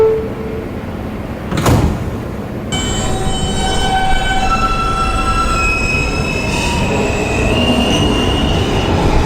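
A Queens-bound New York City R subway train rolls into a station, its wheels screeching against the rails at about two seconds, then a steady rumble with sustained high squealing tones as the train brakes. No talking.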